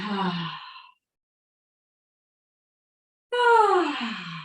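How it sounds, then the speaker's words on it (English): Two audible breaths in an early morning exercise class, a breathy inhale then, after a pause of silence, a longer voiced exhale with a sighing fall, close and fairly loud. "Breathing in and then exhaling."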